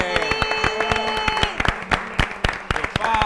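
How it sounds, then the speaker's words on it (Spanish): Enthusiastic audience applause with sharp, rapid claps, mixed with shouting voices and cheers in a lively indoor setting. "¡Aplauso!"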